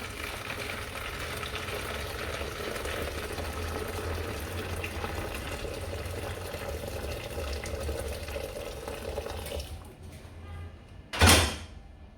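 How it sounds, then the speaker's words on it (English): Steady bubbling and rushing of water boiling for making eba (garri) fills most of the clip, then quiets, followed by a brief clatter near the end. "This is boiling water."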